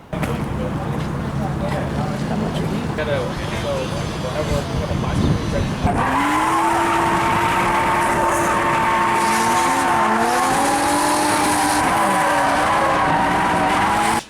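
Loud, sustained tire squeal from a drifting car, rising and bending in pitch over a roaring engine, with an earlier stretch of rough engine and road noise.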